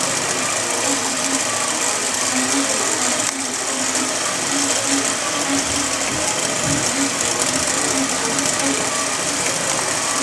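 IntelliQuilter computerized quilting machine stitching, a steady mechanical whir with a fine rapid needle rhythm running continuously and fairly loud throughout.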